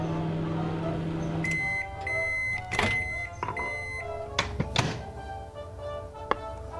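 Microwave oven heating food inside a video game, a steady hum with tonal beeps and several sharp thunks and clicks as the door and controls are used, fairly close and clear with no talking.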